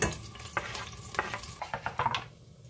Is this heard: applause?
no